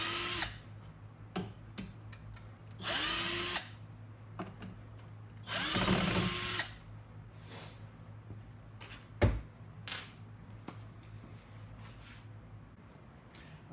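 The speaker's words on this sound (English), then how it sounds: "I just give it a little bit of throttle just to get it in there, and then I really run it in a little ways, and I'll step on it all the way" A Drillmaster power drill driving screws, whining in several bursts of a second or so, some ramping to full throttle, with clicks and quiet gaps between runs.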